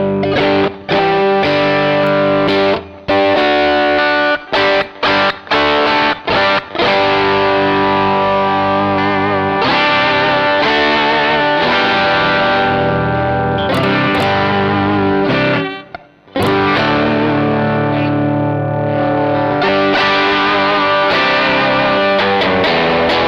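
An electric guitar plays through an overdriven Schwarz Supercharger amp, loud and saturated with dense distorted chords, sustained notes and a few short stops, with heavy noise beneath.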